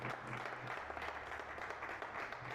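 Applause from the congregation at a pastors' seminar in Caracas, a continuous wash of clapping that sounds distant and fairly faint, with some murmur of voices underneath.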